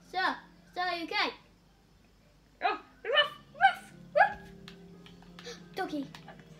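A dog barks in a Piggy video game, several short bursts in quick clusters, loud and close, followed by further yelps with a low steady hum underneath.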